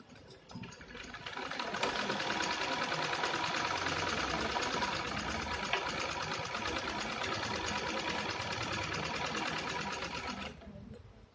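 A sewing machine stitching piping onto a fabric piece, running in one long continuous burst with a loud, even, rapid mechanical whir that starts and stops cleanly, no talking over it.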